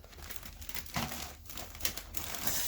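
Plastic bag holding white-molded parts of a 1994 Revell Monogram Impala SS 1/25 scale model kit crinkles and rustles in short bursts, close and fairly quiet, with no talk.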